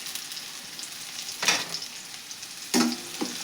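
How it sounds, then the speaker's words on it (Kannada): Onions and curry leaves fry in hot oil for a spicy cluster bean palya, a steady close sizzle broken by two louder bursts of stirring. "ಇದು ನೋಡ್ರಿ ಉಳ್ಳಾಗಡ್ಡಿ ಫ್ರೈ ಆಗತ್ತವ ಎಣ್ಣೆ ಒಳಗೆ."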